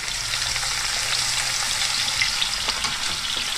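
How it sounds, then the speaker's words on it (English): Zucchini slices fry in hot olive oil with a steady, crackling sizzle and scattered pops, close and continuous, with no talking. "Let me get this frying."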